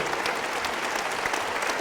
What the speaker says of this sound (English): Before they stop clapping.